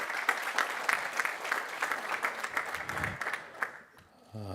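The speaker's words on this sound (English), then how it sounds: "Give Tom Penn a big round of applause, won't you?" A crowd applauds a soccer executive at a Los Angeles event, many hands clapping in a dense, steady patter that thins out and fades toward the end.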